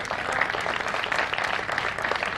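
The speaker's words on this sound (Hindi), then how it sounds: "जोरदार तालियां इनके लिए सर।" Dense, steady clapping from an event audience honouring community workers in an HIV/AIDS program, continuous and fairly loud throughout the short span without speech.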